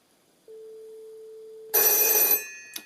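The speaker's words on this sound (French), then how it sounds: "sur ce type d'appareil, on avait des sonneries mécaniques, très jolis sons, cristallins" A mechanical bell of an old S63 SOCOTEL telephone rings in a bright, crystalline burst after a steady tone, then stops; one short extra ring follows, close and loud.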